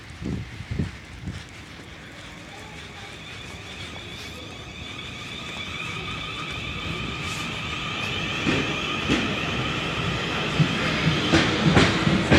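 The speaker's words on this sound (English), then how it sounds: "I am now going to go and get on this train." A train at Farnham station rumbles and clatters nearby, growing steadily louder, with tonal squeals and rhythmic clicks of the wheels.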